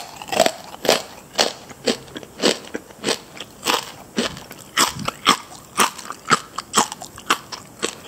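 Repeated crisp bites and crunches into crackling roast pork belly skin, close and loud, about a dozen sharp crackly bursts in an uneven rhythm, each followed by brief chewing, with no talking.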